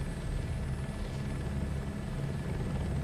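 A helicopter in Microsoft Flight Simulator 2024 drones steadily with a dense, low rotor thrum that stays constant throughout, fairly quiet.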